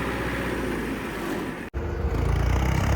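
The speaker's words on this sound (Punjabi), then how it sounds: "ਇੱਕੜ ਦੇਖੋ ਟਰੈਕਟਰ ਦਾ ਬਾਈ ਕਿਆ ਕਹਿੰਦਾ" An old tractor engine runs steadily up close with a continuous low rumble and broadband noise, briefly cutting out for a moment before resuming, slightly louder.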